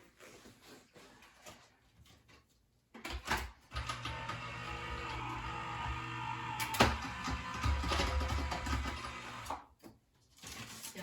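Electric die cutting machine pressing card flower shapes, a steady mechanical motor hum and rolling grind running for several seconds after a few quiet handling clicks, then stopping.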